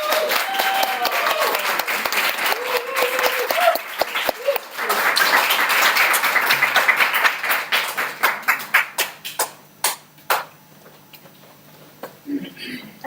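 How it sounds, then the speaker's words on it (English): Audience applause at a speakers' event: dense, loud clapping with a voice over it, then thinning into scattered individual claps that fade toward quiet. "Another round of applause."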